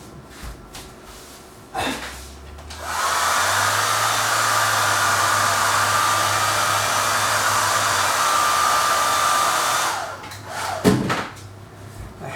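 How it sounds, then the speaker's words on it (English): A hair dryer blowing on wet watercolour paint, switched on after a couple of small handling sounds, a steady close whooshing roar with a whine that runs about seven seconds and then cuts off, followed by a few knocks. "A hairdryer can be handy"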